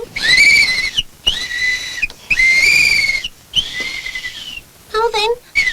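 Loud, sustained whistle tones in four long blasts with short gaps, then a quick warbling flourish, coming from the throat of Torchy, a puppet battery boy, in a children's puppet show.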